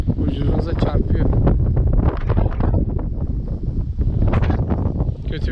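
Strong gusts at the seaside batter the microphone in loud, rough bursts of rumbling wind buffeting, with a person talking underneath.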